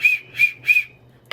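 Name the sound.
whistle being blown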